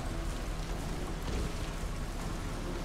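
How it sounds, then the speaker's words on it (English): Heavy rain pours steadily in the video game Splatter: Blood Red Edition, a dense, unbroken hiss of falling water with a low rumble beneath, loud and continuous with no voices. "That rain is just..."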